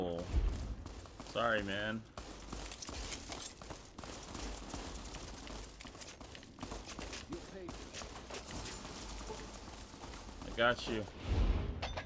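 Gunfire in the Fallout: New Vegas video game, a few sharp shots scattered among footsteps and busy game sounds, with someone talking over much of it.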